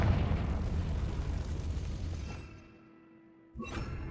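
A Confringo fire-blast spell going off in Hogwarts Legacy: a loud, roaring burst that rumbles for a couple of seconds, fades, and is followed by a sharp crack from a fresh impact.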